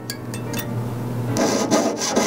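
A jeweler's saw cuts through a gold ring shank during sizing from 6 1/4 down to 5 1/2. Close, steady rasping strokes repeat in a quick rhythm, with a low hum underneath that drops away partway through.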